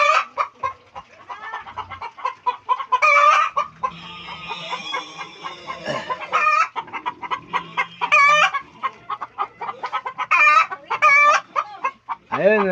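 Broiler chickens cluck repeatedly in a pen, close and loud, with overlapping calls in bursts and a drawn-out crow-like call partway through; a person speaks briefly among them.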